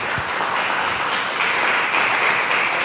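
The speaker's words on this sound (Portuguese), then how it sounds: "Aplauda o Senhor nessa noite." A church congregation claps together during an evening worship service, a dense, continuous wash of applause that stays loud and even throughout.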